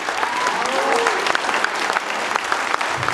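Audience applause at a village community-home concert, a dense, steady clapping from a crowd filling the whole stretch, close and loud without pause.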